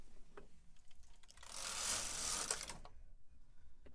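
A knitting machine carriage is drawn across the needle bed to knit one row of a sock, producing a brief burst of dense whirring and rattling in the middle, with quieter clicks before and after.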